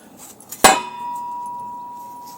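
A 2019 WRX exhaust pipe being worked off the old pipe gives a single sharp metallic clang that rings on with a long, steady tone as it fades, close by in an otherwise quiet garage.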